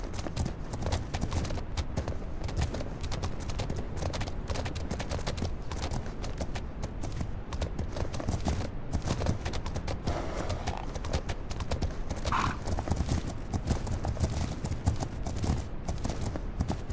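Horse hooves clip-clop at a steady, continuous pace through a historic open-world survival delivery game, with an occasional brief whinny rising over the constant loud hoofbeats and no one speaking.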